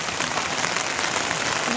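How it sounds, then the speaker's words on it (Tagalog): Light rain falls steadily over a campsite in Tanay, Rizal, a soft continuous patter close around with no other distinct sounds standing out. "So, medyo umuulan lang."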